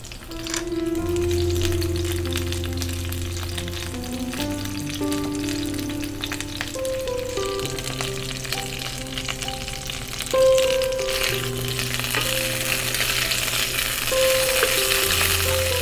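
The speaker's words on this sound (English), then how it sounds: "Listen to this sound, the frying sound." Cauliflower stir-frying in a pan gives a continuous, close, crackling sizzle that runs throughout, with soft background music playing underneath.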